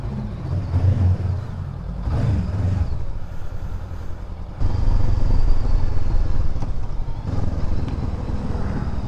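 Motorcycle riding over a rough rural road in Dingalan, Aurora, its engine droning steadily with bumpy rumbling and wind noise, the revs rising noticeably partway through.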